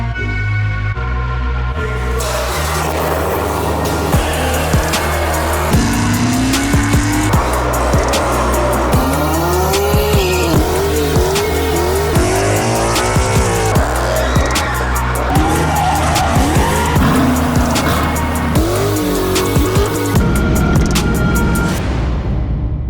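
A Jeep Trackhawk and a BMW X3M racing: loud, continuous engine roar with repeated sharp tire squeals and skids rising and falling throughout, close and dominant with no talk.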